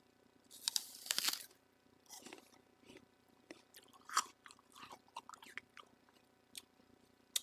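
Someone bites into an organic Ambrosia apple and chews it, with a loud crisp crunch at the first bite followed by irregular wet crunching and chewing sounds up close, no talking.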